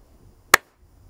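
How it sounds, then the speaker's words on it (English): A single sharp hand clap, close and loud, recorded alone against near silence with a very short decay. "Just one simple clap."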